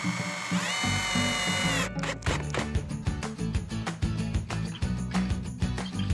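A power drill whirs in repeated short bursts, stopping and starting as it drives a screw into wood while building a wood fence, loud and close with a ratcheting edge.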